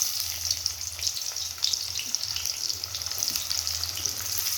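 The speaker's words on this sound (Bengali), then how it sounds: "পেঁয়াজগুলো ভেজে নিব" Onions fry in hot oil in a wok with a steady, soft crackling sizzle that stays close and fairly quiet throughout, with no voices.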